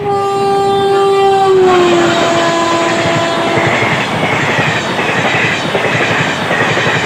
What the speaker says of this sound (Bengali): বারহাওড়া আজিমগঞ্জ এক্সপ্রেস স্পেশাল আজকে নতুন আয়রন রেল ব্রিজের উপর দিয়ে যাবে